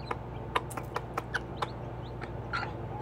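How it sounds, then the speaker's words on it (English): A mother hen with four three-day-old chicks, feeding on grubs, makes soft, short clucking coos in a quick uneven series, close by and quiet, over faint background hum. "That little cooing sound is her telling the babies, eat this."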